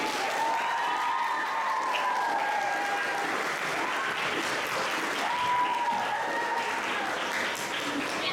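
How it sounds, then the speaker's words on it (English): An audience applauds steadily and loudly after a keynote talk at a school district literacy night, with dense clapping throughout and no break. "Can we get one more nice round of applause for Donna Georgino?"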